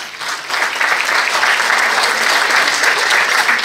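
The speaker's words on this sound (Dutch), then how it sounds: "Dames en heren, een warm applaus" A crowd at the Miss & Mrs Glamour Belgium 2019 beauty pageant gives the jury a warm round of applause, a loud, dense clapping that swells quickly and stays strong throughout, close and full.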